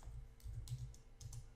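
Keys on a computer keyboard tapped in short bursts while typing a format command to set up a bootable Windows 7 USB stick, several quick clicks close by with no voice.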